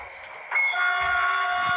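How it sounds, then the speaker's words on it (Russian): A train horn sounds on a passenger rail line between Konstantinovo and Moscow, a sustained multi-tone blast starting abruptly and holding steady and fairly loud to the end, with a faint rumble beneath. "вроде знакомый гудок"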